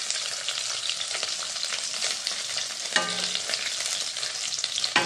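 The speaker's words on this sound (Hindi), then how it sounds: "अभी तो फ्राई हो गया चिकन" Chicken frying in hot oil for chilli chicken, a dense steady crackling sizzle heard close and loud throughout, with a brief clatter of stirring near the middle.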